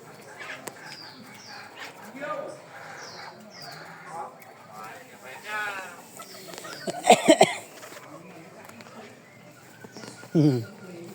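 Chickens cluck and murmur nearby in a quiet yard, with a few sharper, louder squawks breaking out near the end.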